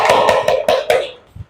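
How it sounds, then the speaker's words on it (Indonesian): Children in a classroom give a round of applause for a group, a brief burst of several sharp, fairly regular claps that stops abruptly, ending with one faint tap. "Tepuk tangan untuk kelompok"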